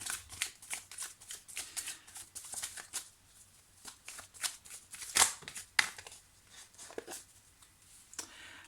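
Tarot cards being shuffled by hand in a quiet room, giving a run of soft, close riffling and slapping bursts with a few sharper snaps partway through.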